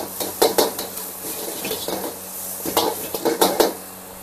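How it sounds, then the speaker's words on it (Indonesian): Ingredients being sautéed in a pan for Malaysian egg parcels (telur bungkus), a steady soft sizzle with repeated scraping and clinking of a utensil against the pan, close up, with no voice. "Lepas tu kita tumis eh. Kita tumis dia"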